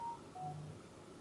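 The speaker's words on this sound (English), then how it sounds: "that's my phone" A mobile phone's brief electronic tones, a few short beeps at different pitches within about a second, faint over steady room noise with no talking.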